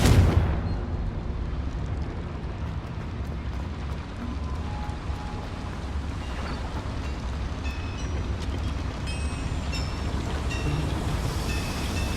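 Fire curse Confringo blasting in the video game Hogwarts Legacy, a sudden loud burst at the start that settles into a sustained, rumbling roar of flames and debris, heavy and continuous throughout, with faint ringing tones toward the end.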